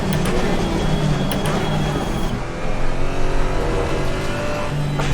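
A GT4 race car at Monza in Assetto Corsa Competizione revs loudly and steadily through the gears, with a brief dip at a shift before the engine climbs again, while a driver talks over it.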